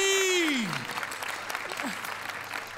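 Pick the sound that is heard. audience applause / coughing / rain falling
audience applause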